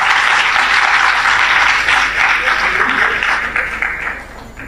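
A live audience at a Gujarati-language poetry and motivational talk breaks into loud, sustained clapping that gradually thins and fades over a few seconds.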